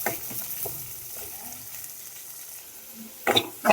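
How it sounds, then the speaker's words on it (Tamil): Onions and curry leaves sauté in a pan for fish curry, a soft, close sizzle with faint stirring scrapes and a couple of louder clattering utensil knocks near the end. "நல்லா வந்து வதக்கி விட்டுக்கோங்க ஆனியன் நல்லா வதங்கிருச்சு"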